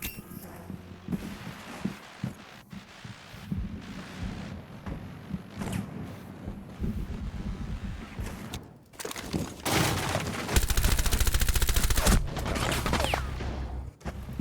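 Bursts of automatic gunfire from a first-person shooter game, rapid sprays of shots with heavy thuds and clinks, loud and close, growing into a sustained burst near the end while a player talks in between.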